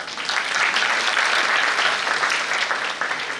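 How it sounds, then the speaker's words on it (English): Loud, steady applause from a seminar audience at a national conference hall, a dense wash of many hands clapping continuously without pause. "Please have a round of applause for this."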